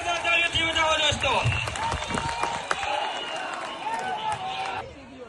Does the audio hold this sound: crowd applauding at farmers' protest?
yes